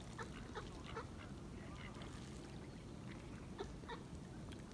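Faint, scattered duck quacks from a small group against a steady low rumble of background noise.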